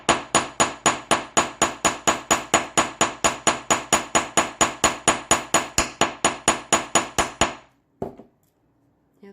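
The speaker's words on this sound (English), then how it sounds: "we just lay down the ear wire, the loop on the edge, and hammer" A hammer strikes an ear wire resting on an edge to work harden it, about thirty sharp, evenly spaced metallic taps in rapid rhythm, then the tapping stops and a brief soft clatter follows.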